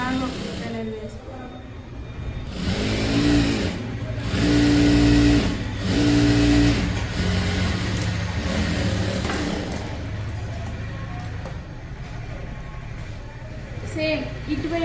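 A sewing machine runs in steady, whirring bursts, stitching saree fabric into a dress, fairly close and loud with a mechanical hum throughout.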